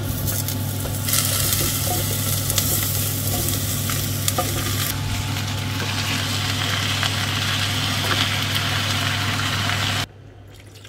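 Vegetables tipped into a pan of hot oil with onions set up a loud, steady sizzle and crackle that runs unbroken for about ten seconds, then cuts off abruptly.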